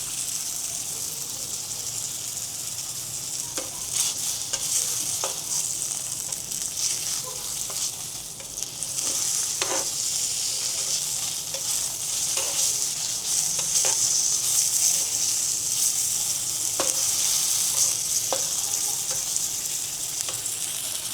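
Salmon fries in a hot pot with a steady, dense sizzle and crackle, with occasional sharper pops and faint stirring sounds heard up close for about twenty seconds.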